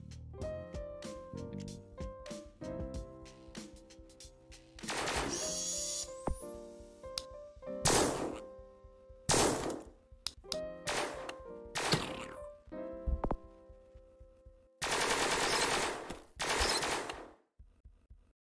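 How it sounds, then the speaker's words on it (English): Sci-fi laser weapons from the game Isometria fire in bursts, rapid clicky volleys alternating with longer blasting sprays and a rising zap, loud and close with short gaps between rounds. "Three new ranged laser weapons that were added to the permafrost."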